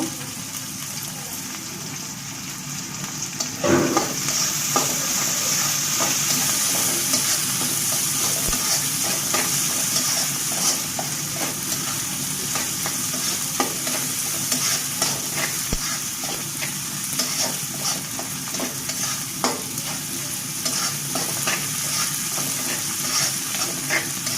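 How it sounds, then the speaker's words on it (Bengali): Dried fish (shutki) frying in a pan gives a loud, continuous sizzle that holds for the whole stretch, with light stirring clatter and occasional sharper pops, no voices. "আমি এখন কয়েক সেকেন্ডের মতো শুটকিটা ভেজে নিব"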